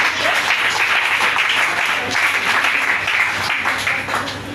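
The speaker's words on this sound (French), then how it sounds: "Acclamons Jésus." Applause from a congregation during a French-language church service, a dense sustained wash of clapping that swells and continues throughout, close and loud.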